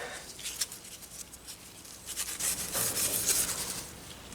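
A Scotch-Brite pad rubs along the barrel of an N R Davis & Sons 20 gauge double-barrel shotgun during restoration, soft quick scrubbing strokes close by that grow busier toward the end, with no talk.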